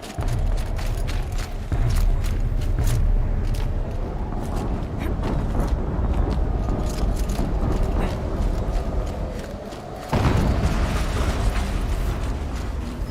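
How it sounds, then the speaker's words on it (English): An explosion in the Horizon Zero Dawn video game, a loud continuous rumbling and mechanical grinding roar with a sudden heavy surge partway through, dense and steady throughout. "An explosion."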